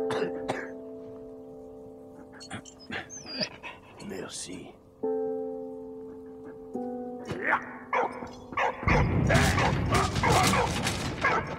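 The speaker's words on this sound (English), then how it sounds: "Rescued by this German medical dog." A German medical dog barks in the World War I video game Valiant Hearts: The Great War. Several short barks and yips sound among mechanical game effects, ending in a loud noisy burst.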